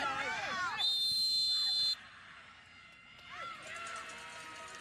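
A referee's whistle blows during a college soccer tournament match between Mississippi State and Oklahoma, one long shrill blast lasting about a second, amid crowd noise and commentary.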